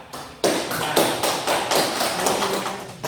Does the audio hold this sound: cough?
no